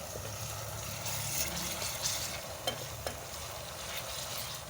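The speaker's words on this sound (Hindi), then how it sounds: "2 टेबल स्पून इसमें डाल के इसको अच्छी तरह हम फ्राई करते हैं इसमें ऑयल में।" Garlic ginger paste fries in hot oil in a pan, giving a steady, close sizzle with soft stirring scrapes and a couple of brief clicks throughout.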